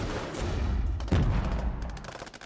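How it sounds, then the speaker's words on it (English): Infantry in the Regiments wargame fire anti-tank weapons against T-55 tanks: rumbling battlefield gunfire with scattered shots, and a heavy boom near the middle that fades into crackling fire. "you can see they're using anti-tank weapons, making a mess of them"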